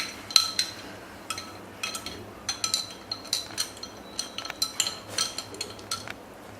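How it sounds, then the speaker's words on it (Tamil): A spoon stirs tender coconut sarbath with ice in a glass, making a steady run of quick bright clinks and taps, close and fairly crisp against quiet background hum. "இப்போ எல்லாத்தையும் நல்லா மிக்ஸ் பண்ணிடணும்."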